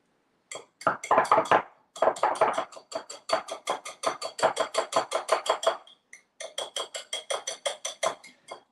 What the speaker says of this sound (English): now this gets a bit claggy, so I kind of almost punch the whisk up and down till the ingredient starts to go in